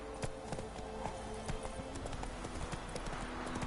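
Hooves of a galloping horse in The Witcher 3 video game, a quick, rhythmic clip-clop drumming close by at a steady pace, with soft game voices and ambience underneath.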